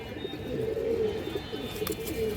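Green-necked Bagha pigeons coo softly in a loft, with low, drawn-out throaty calls that repeat over a faint background hum.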